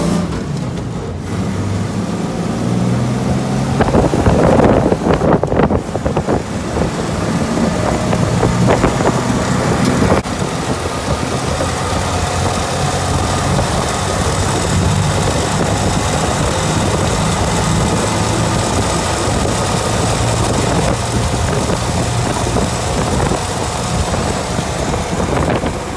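A restored 1948 Willys CJ2A jeep on a test drive, its engine rumbling loudly and steadily as it revs up and then cruises, with some wind and road noise mixed in.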